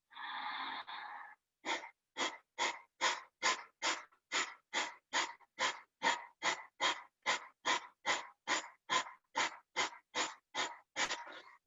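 Rhythmic exhalations during a yoga breathing exercise, a long breath followed by a steady train of about twenty sharp, forceful breaths out through the nose, evenly paced and close, with no talking.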